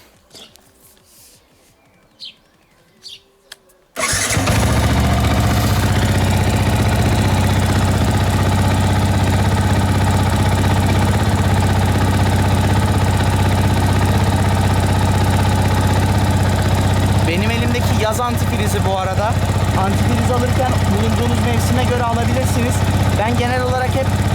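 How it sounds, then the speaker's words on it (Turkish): A Yamaha MT-125 motorcycle starts after a few seconds of quiet handling noises, then idles loudly and steadily at close range with a low, even engine hum and brief voices near the end. "Şimdi motosikletimi çalıştıracağım."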